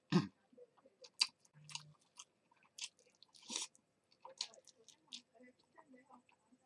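Close, quiet chewing of Nissin UFO yakisoba and onigiri, with scattered crunches, bites and wet mouth sounds in irregular bursts, alongside some soft murmured speech.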